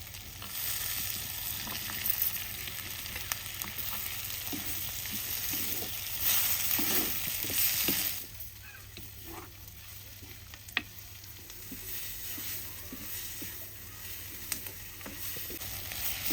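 Onions and chopped tomatoes fry in a pan for a paneer curry masala, giving a steady close sizzle throughout with occasional stirring scrapes and a few sharp clicks, and no one speaking.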